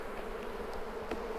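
Honeybees hum steadily inside an opened hive crowded with brood, a dense close buzzing drone holding even throughout with faint individual wingbeat flickers.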